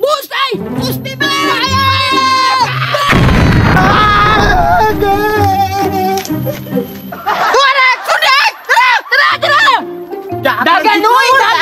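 A homemade kanyon cannon fires one loud, close blast of noise in the middle, surrounded by excited shouting and talking voices.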